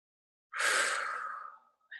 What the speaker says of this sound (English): So let's take a few breaths together.